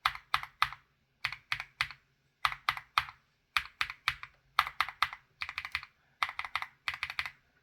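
Durock Black Lotus long-pole bottom-out stem switches are typed on in close, clean bursts of three or four crisp clacky keystrokes separated by brief pauses, with no talking.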